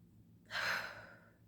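A single deep breath: one close, airy inhalation swells up and then slowly fades, heard alone against a quiet background.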